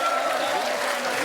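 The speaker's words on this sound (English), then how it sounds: "While we're doing the clapping" Studio audience claps steadily in a continuous wash of applause, fairly loud and even, with faint voices underneath.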